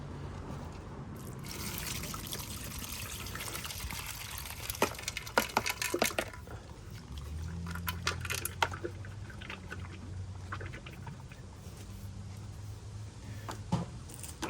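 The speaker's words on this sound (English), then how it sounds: "But now we're gonna dump it out in here and see" Old fuel and debris are dumped out of an engine part from a 1980 Yamaha Champ 49cc scooter, giving a faint trickling and dribbling of liquid with scattered small clinks and knocks, close and quiet.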